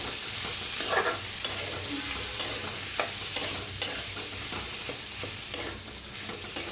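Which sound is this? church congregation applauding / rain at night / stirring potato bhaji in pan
stirring potato bhaji in pan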